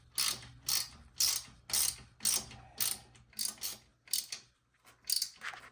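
Bolts being tightened on an electric Razor MX scooter build, with a ratchet wrench clicking in quick bursts that repeat about once a second, close and fairly quiet with no talking.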